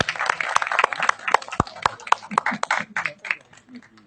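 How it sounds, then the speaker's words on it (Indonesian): Applause from the audience at a film press conference, scattered claps of several people, uneven and fairly close, thinning out as it goes. "Tepuk tangan yang meriah dong."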